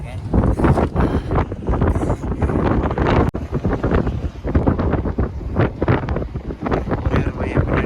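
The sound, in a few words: strong wind blowing on a small boat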